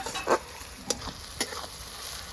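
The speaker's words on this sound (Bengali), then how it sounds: "পেঁয়াজটা একটু লাল করে ভেজে নেব" Onions fry in a pan with a soft background sizzle, broken by a few sharp scrapes of stirring, quiet and close with no talking.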